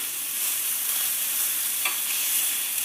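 An 8oz rump steak sizzles in a hot pan with a dense, even hiss that holds steady throughout, loud and close with no voices.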